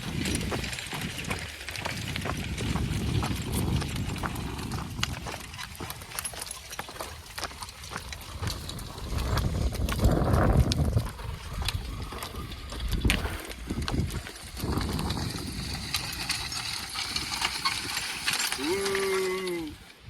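Farm horses' hooves clip-clopping on hard ground at an uneven pace, mixed with clinking mechanical rattles and people talking nearby.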